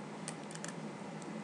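A computer keyboard key being pressed a few times while using CAD software, heard as faint, close clicks over a steady hiss, with no talking.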